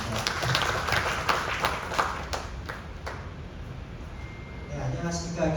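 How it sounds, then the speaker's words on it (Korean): Audience applause at a church QT seminar after a sermon, dense clapping that thins and fades over several seconds, with some voices and noise near the end. "큰 박수 부탁드리겠습니다"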